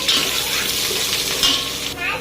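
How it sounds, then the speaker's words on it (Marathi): A steady hiss of onion sautéing in a hot pan, with light stirring and scraping throughout and no voices. "नंतर त्यामध्ये कांदा टाकून मऊ होईपर्यंत परतवायचं"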